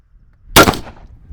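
A single sharp crack of a 5.56, 62-grain round fired from a .223 rifle at a coated steel plate, loud and close, with a brief ringing tail.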